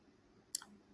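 A single computer mouse click, a sharp brief tick with a small echoing second tap, faint and close against a quiet background with no talk.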